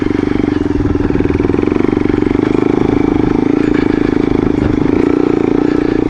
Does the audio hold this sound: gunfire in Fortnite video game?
no